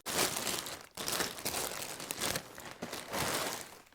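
Plastic polythene wrapping crinkles and rustles loudly and up close while a pedestal fan is unpacked, in steady bursts of handling with brief pauses.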